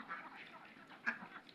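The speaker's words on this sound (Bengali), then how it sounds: "খুব সুস্থ আছে হাঁস।" Ducks quacking faintly at a distance, a few soft overlapping calls over a low background hum in a short quiet stretch.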